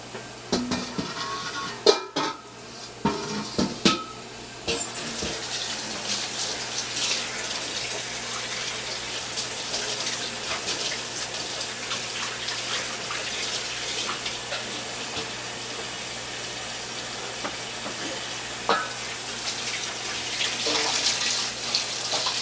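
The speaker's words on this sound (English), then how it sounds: "Wash your hands off." A kitchen tap runs steadily while hands are washed after handling a skillet, a continuous splashing hiss with a few clatters early on.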